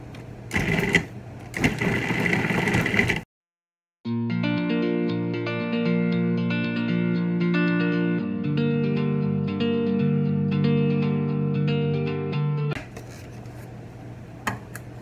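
A food processor blade cuts butter into shortbread tart dough, running with a steady, whirring motor hum for about nine seconds after a brief pause, preceded by a short burst of clattering handling noise.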